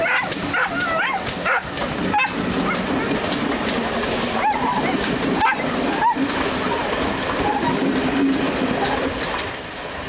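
GWR shunting tank locomotive No. 1369 hauls a service train to Totnes past a public foot crossing near Staverton. Wagons rumble and clank steadily with sharp rhythmic knocks, while a dog barks repeatedly nearby.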